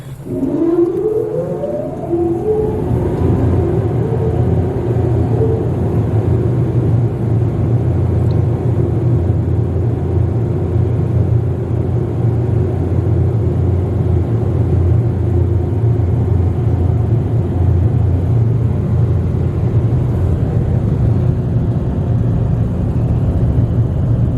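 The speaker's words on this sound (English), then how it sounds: "Dryer time now, I think." Ryko SoftGloss Maxx 5 car wash dryers at a 7-Eleven in Plano, Texas spin up with a rising whine, then settle into a loud, steady blowing roar that continues alone for the whole stretch.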